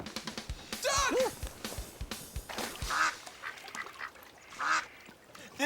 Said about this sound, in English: This time it really is a duck.